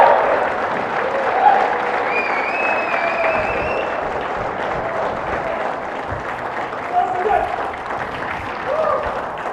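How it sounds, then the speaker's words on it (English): Sustained audience applause at the DB Converge 2024 conference for an honoree, a dense wash of clapping filling the room for about ten seconds with a few voices calling out over it. "Another round of applause for him."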